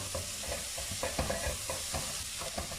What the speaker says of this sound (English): We'll add in courgettes. We'll give it a bit of a stir for about half a minute.